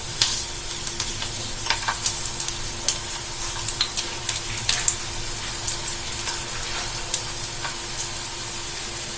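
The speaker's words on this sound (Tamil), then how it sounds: "ஒரு சைடு வந்து ஃப்ரை ஆயிடுச்சு." Evening snacks fry in hot oil with a steady crackling sizzle, and sharp pops and spatters break through at irregular moments. The sound stays close and even, and no one talks.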